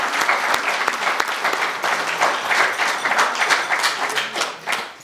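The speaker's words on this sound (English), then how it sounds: "If we could give them a round of applause." An audience at an investiture ceremony gives a sustained round of applause, dense even clapping from a large crowd with a few sharper claps standing out early on.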